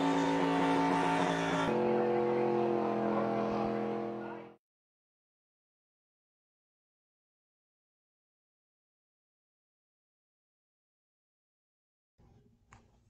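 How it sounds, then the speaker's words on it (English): A race car does a loud, sustained burnout after winning a Piston Cup race at Homestead-Miami Speedway. The engine roars with rich harmonics for about four seconds, then cuts to silence, with a faint brief noise near the end. "Here he goes doing the burnout."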